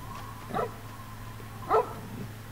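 A dog barks twice in Fallout: New Vegas, short separate woofs over a steady low game-world hum, with a third bark starting right at the end.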